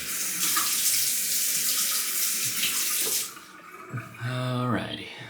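A bathroom tap runs in a strong, steady stream while a face is wetted before a shave, then the flow cuts off into a few splashes and a brief voice.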